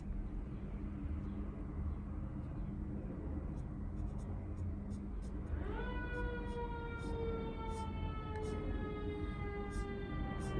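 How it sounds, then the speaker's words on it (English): A fire department siren begins rising and wailing partway through, clear and steady over a constant low background drone; quiet talk may sit underneath. "And there go the sirens."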